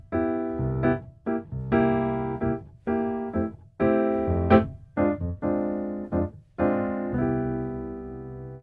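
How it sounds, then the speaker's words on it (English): A piano plays a bossa nova groove, with syncopated chords repeating in a lilting pattern of short and held stabs, close and clear, with no voices. "This is our example of bossa nova"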